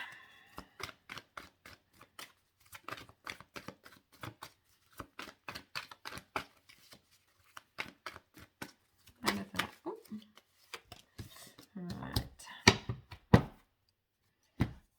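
Oracle cards being shuffled for a reading, repeated quick riffling snaps and flicks in irregular bursts, close and fairly quiet, growing busier toward the end.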